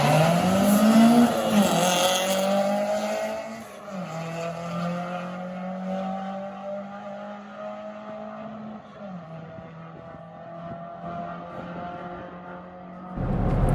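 A 340 BHP turbo Ford Cortina accelerates hard up the quarter-mile drag strip at Santa Pod, the engine roaring through gear changes with falling and rising pitch, loud and close, then fading toward the end.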